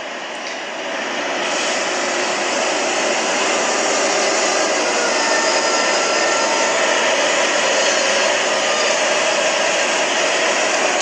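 A loud Mercedes truck engine revs up from a lower idle and holds a steady, high roar for several seconds, close by, with no talking.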